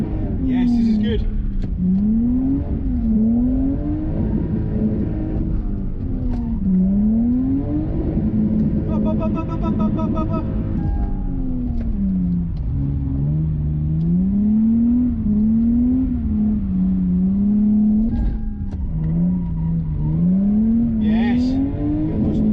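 A Lexus IS200 engine revs hard during a drift test, its pitch climbing and dropping in repeated rising sweeps as it runs up through the gears, loud and close, with speech mixed in.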